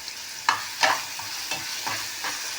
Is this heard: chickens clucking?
no